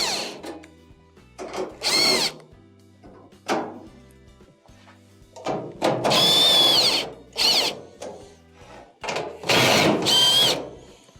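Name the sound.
power drill removing quarter-inch screws from a Maytag dryer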